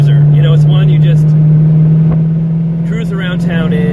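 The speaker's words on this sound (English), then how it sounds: "listening to that V8 rumble behind you" A 1981 Aston Martin V8 Volante cruising, its V8 giving a steady, deep, loud droning rumble that stays even throughout, with a person talking over it.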